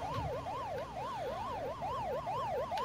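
A steady warbling siren-like electronic tone of a creeper ghost in a Pac-Man Minecraft game wails up and down in a fast repeating pattern, moderately loud, with no talking.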